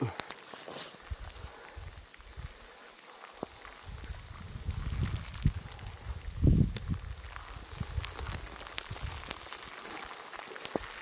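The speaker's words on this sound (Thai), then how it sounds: "เอ้ยฝนตก" Steady rain falls outdoors while fruit is gathered, a dense even patter with scattered sharper drops and soft thumps, moderately close and not very loud, swelling slightly in the middle.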